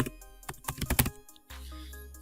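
Quick taps on a computer keyboard, a short cluster of clicky keystrokes close up, then a pause before a low steady hum takes over.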